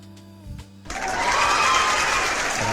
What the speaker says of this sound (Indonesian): Ini kita kasih tepuk tangan dulu nih untuk Salman ya.